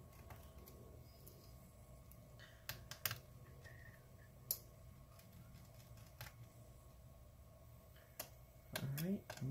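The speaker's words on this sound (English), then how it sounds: "Hopefully you can see all the screws I'm removing here." Small screws are taken out of an HP Envy 17 notebook (17t-j100) during disassembly: faint, scattered clicks and scrapes of a screwdriver on the laptop casing, quiet and close, with a louder rattle near the end.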